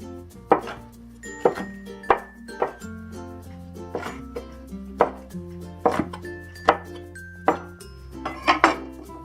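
A knife chops cloud ear black fungus in half on a board, giving a steady series of sharp, close knocks, about a dozen over several seconds, with faint ringing overtones and no talk.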